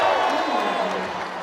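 A crowd at a high school all-star basketball game roars briefly in a broad wash of cheering, loud at first and then easing, with a voice talking over it.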